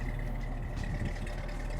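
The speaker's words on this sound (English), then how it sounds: "And you can hear the exhaust right now at idle." A steady, low idle from a 1966 Ford Mustang rumbles continuously, a deep even exhaust drone with no speech over it.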